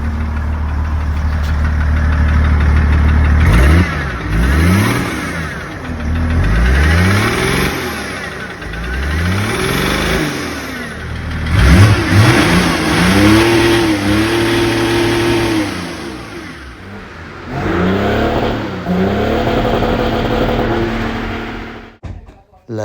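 BMW M57 diesel engine in a Nissan Patrol Y61, close and loud, idling with a knocking clatter and then revved repeatedly in rising and falling sweeps, with voices talking under the engine noise.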